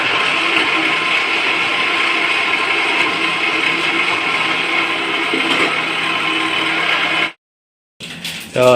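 A kitchen mixer grinder whirs loudly and steadily for about seven seconds while grinding for a field-bean sambar, then cuts off abruptly, followed by a short burst of handling noise.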